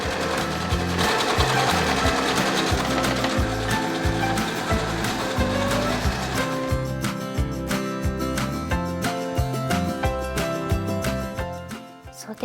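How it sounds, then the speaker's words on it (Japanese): A domestic sewing machine stitches the hem of family clothing fabric in a fast, continuous mechanical chatter, close and loud, with the motor's rhythm shifting partway through before slowing at the end. "裾を縫おう。"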